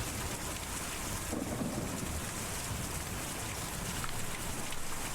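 Steady rain with low rumbling thunder from the video game Kentucky Route Zero, a continuous broadband wash that stays even and fairly loud throughout with no voices.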